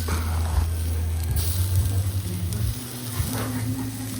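Steady sizzling of native chicken grilling over a fire, a continuous crackling hiss with a low rumble underneath and no talking.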